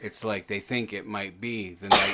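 A single short, forceful human sneeze bursts out right at the end, just after a stretch of someone talking.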